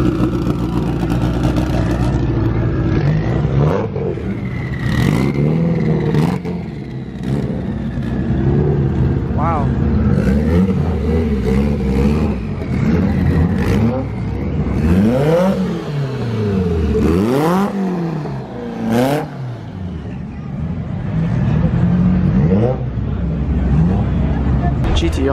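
Mitsubishi Evos and other street cars at a Texas street racing event rev and accelerate loudly one after another, engines rising and falling in repeated surges under a busy crowd babble and nearby voices.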